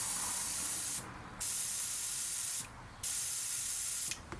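Paint sprayed from an airbrush or spray gun onto a model ship, a steady close hiss broken into three bursts by brief pauses, with no voices.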